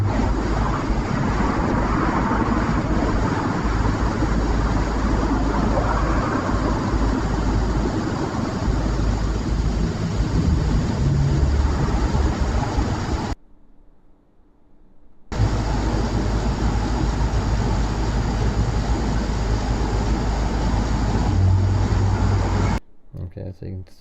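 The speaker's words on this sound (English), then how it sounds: "so you can still hear car" A car passes by in a steady broadband road rush that fills most of the stretch, briefly dropping out before the traffic noise resumes; a voice talks over it at times.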